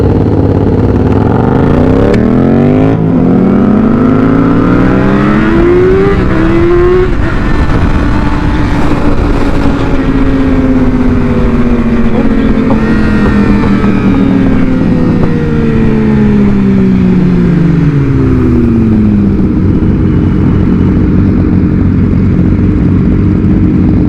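A motorcycle engine revs hard for a wheelie, loud and close, its pitch climbing and falling through repeated throttle sweeps and gear changes, a continuous roar over the whole stretch.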